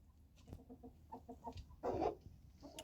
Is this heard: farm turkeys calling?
yes